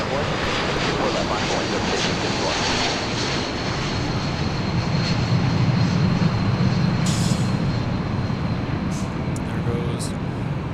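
A UPS Boeing 747-8 jet passes at LAX, its engines a loud, steady broadband roar that fills the whole stretch without pause, with faint higher whines on top.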